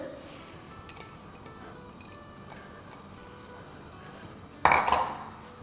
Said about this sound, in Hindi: और यहाँ हमारे पास है एक लार्ज प्याज मैंने ली थी, जिसको स्लाइसेस में बारीक बारीक काट लिया था, वो डाल देते हैं इसमें।